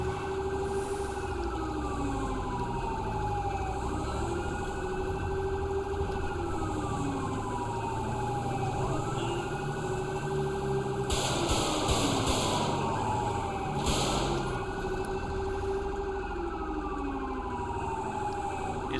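Dual police sirens from the video game FivePD wail continuously, two overlapping rising and falling tones cycling steadily, joined by a few short bursts of harsher noise partway through.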